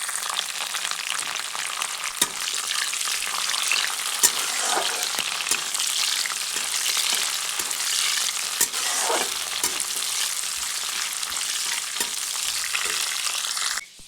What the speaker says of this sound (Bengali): এরপরে কাজু কিশমিশ দুটো একসাথে ভেজে নিচ্ছি।